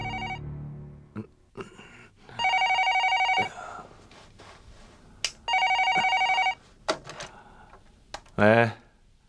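A telephone rings in a tense indoor drama scene: two sustained electronic ring bursts a few seconds apart, loud and close, with sharp clicks and handling knocks between them and a final short trill.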